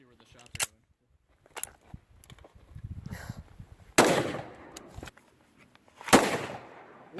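Sharp pistol shots from a .22 LR handgun fired from the holster at an outdoor shooting range: three or four loud cracks spread over several seconds, with faint rustling and handling noise between them.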